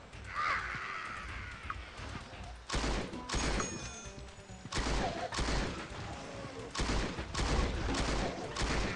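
A Golden Jackhammer automatic shotgun fires in the mobile zombie shooter Dead Trigger 2, with loud heavy blasts arriving in separate bursts about two seconds apart over a rumbling game background.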